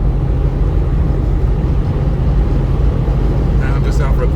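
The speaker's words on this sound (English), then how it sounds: "I'm just out for a quick drive, make sure everything's working okay." A 1991 Range Rover Classic driving on a road in southern Alberta, heard from inside the cabin: a loud, steady engine and road rumble that continues without a break and carries no talk.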